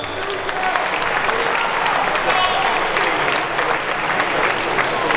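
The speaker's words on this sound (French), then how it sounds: "Je vous demande de l'applaudir comme il se doit." Steady, dense applause from a large crowd at a boxing event fills the space, continuous and loud throughout, with a murmur of voices mixed into the clapping.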